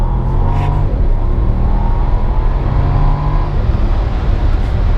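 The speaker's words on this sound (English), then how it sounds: "we're gonna do a little bit of dig racing here in a Maybach" Maybach luxury car accelerating hard in a drag run, a loud, continuous engine roar with a rising tone heard from inside the cabin.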